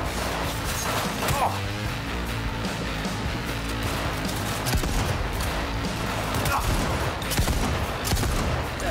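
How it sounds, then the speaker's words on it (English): Power shotgun gunfire in the Cyberpunk 2077 video game, with dense, loud repeated blasts and crashes over a continuous background of game sound and music, and faint talk mixed in. "Get my power shotgun out."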